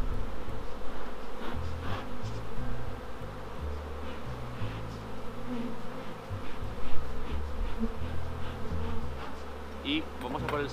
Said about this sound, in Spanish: Esas abejas.